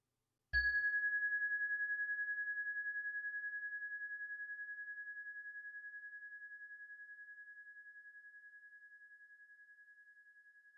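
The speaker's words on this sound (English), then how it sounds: "So I'm going to chime us in and chime us out." A meditation chime is struck once to begin a session, a single clear bright ring that sustains and slowly fades over about ten seconds in an otherwise silent room.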